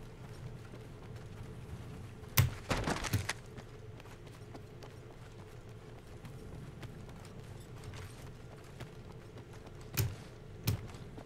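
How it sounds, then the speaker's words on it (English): Footsteps in the Apex Legends battle royale shooter, a few quick clustered thumps in two short bursts, fairly close and clear over a low steady game ambience. "I hear footsteps off to our left, I think."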